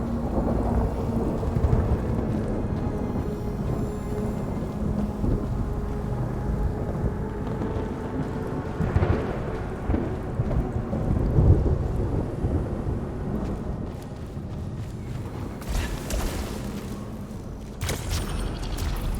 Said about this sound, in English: I think it's the first time we have a thunderstorm in this game.